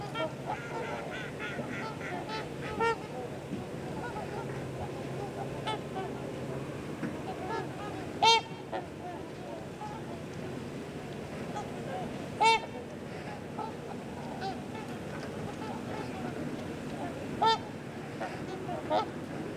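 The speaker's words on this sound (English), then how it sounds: "trumpeter swans are the largest waterfowl in North America" Trumpeter swans, large North American waterfowl, give loud honking calls at intervals amid a steady outdoor wash of water and faint distant sounds, with several sharper calls standing out.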